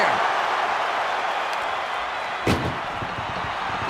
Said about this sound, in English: Look at the struggle just to shut that first door